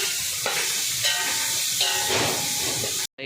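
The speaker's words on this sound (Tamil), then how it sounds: "வெங்காயம் பொன்னிறமானதும் இஞ்சி பூண்டு பேஸ்ட் சேர்த்துக்கலாம்." Onions with ginger garlic paste fry in a pan, a loud continuous sizzle and hiss with some stirring, ending abruptly.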